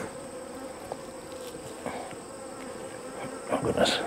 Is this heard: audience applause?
no